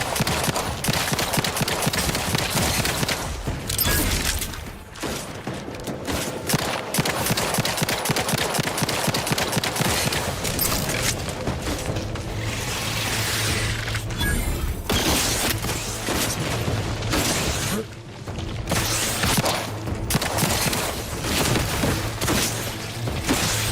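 Rapid gunfire in the video game Outer Worlds 2: dense bursts of sharp shots and mechanical clatter continue nearly nonstop, loud and close, with brief pauses.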